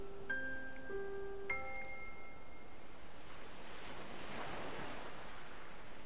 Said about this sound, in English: it ends on this just very pretty ocean noise